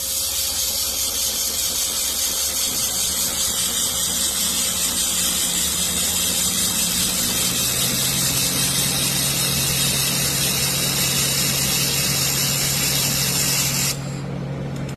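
A laser welder joining metal with fed filler wire, giving a loud, continuous hiss with a steady machine hum and a rising tone partway through, all ending abruptly just before the close; no speech.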